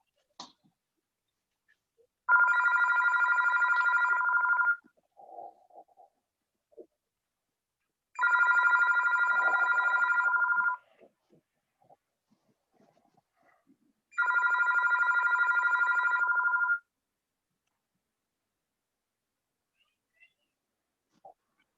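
A house telephone rings in three long electronic bursts, evenly spaced with short silences between, clear and close in an otherwise quiet room before an answering machine picks up.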